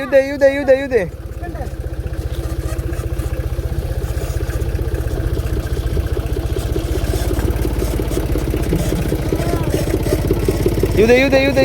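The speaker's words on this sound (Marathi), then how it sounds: "ह्यो छोटा भैया ट्रॅक्टर इथं गुलमोहरच्या झाडाखाली लावणार आहे" A small tractor engine runs close by with a fast, steady chugging throb that lasts the whole time, while a voice calls out briefly at the start and again at the end.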